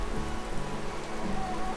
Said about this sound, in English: Grayson, is it raining out?